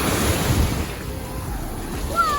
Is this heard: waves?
yes